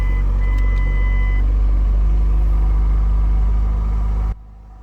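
A 2007 Ford Focus engine runs at a steady idle close by, with a loud, even low rumble and a faint thin whine on top, then cuts off abruptly just before the end. No one speaks.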